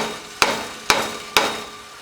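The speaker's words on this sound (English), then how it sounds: "So you want to hammer it in just a little bit to get it started." Three sharp, evenly spaced hammer blows tap a part into place while building a SlipSki Dorado, each strike close and crisp with a short ringing decay.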